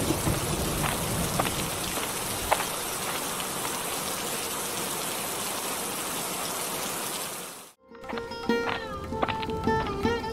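Cartoon rain in a village scene, a dense steady hiss of downpour drumming on surfaces for about eight seconds before cutting abruptly into music.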